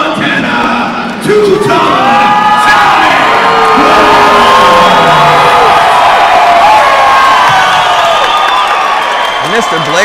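A loud wrestling-event crowd cheers and whoops for wrestler Tommy Blixt, a continuous roar of shouting and applause with a voice talking over it.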